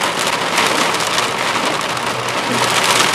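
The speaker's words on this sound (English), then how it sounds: "Intense wind here." Dense, loud roar of wind and driving rain during a severe thunderstorm near Marionville, Missouri, a steady close wash of noise with no talk.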